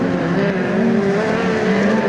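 Midget race cars, including a 166 cubic inch Alec chassis machine, race at Ruapuna Park: a loud, continuous close engine roar with shifting pitch and faint tyre scrubbing, no voices.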